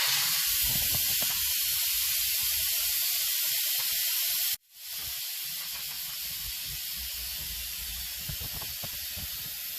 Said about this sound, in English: now we're gonna pop the valve